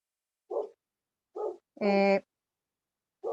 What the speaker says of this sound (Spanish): No sé qué tiene mi perra